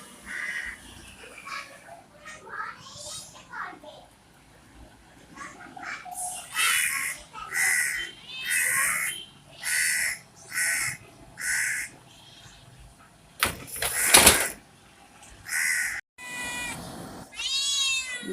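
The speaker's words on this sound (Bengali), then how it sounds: "এই যে কাক বসে আছে" Crows cawing near a house while a cat sits close by, with harsh, repeated calls spread across the clip. The loud caws come in short bursts against a quiet background, alongside a few softer cat-like cries and faint human voices.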